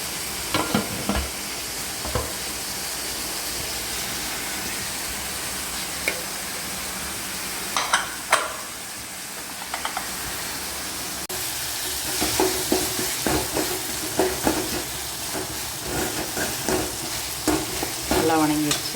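Tomatoes sauté in a pan with a steady close sizzle, broken by scraping stirs and occasional clatters of a utensil, with no talk.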